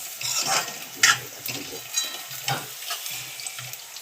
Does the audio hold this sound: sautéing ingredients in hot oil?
yes